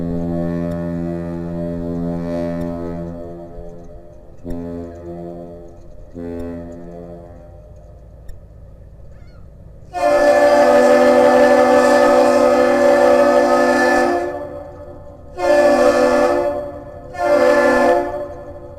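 A deep Great Lakes freighter horn blows a captain's salute at Duluth: one long, loud blast followed by two short ones, after a quieter stretch of lower horn tones.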